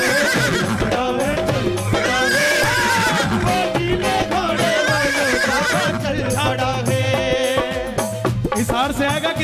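Horse neighing and whinnying woven into a loud Khatu Shyam devotional bhajan about a blue horse, rising over dense, continuous music.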